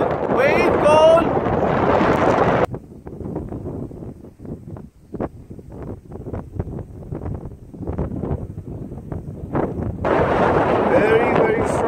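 Strong mountain wind buffets the microphone in loud roaring gusts at the start and end, with a calmer stretch in between where a person talks and footsteps and rustling are heard.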